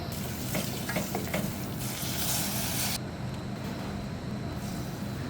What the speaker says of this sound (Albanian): Në fillim do të skuq pak lek në vaj ulliri